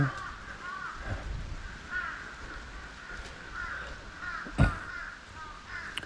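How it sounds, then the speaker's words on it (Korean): Crows caw repeatedly outdoors on a mountain, harsh calls coming at intervals from a moderate distance over wind and background noise, with one loud thump midway. "까마귀가 되게 깍깍거리네."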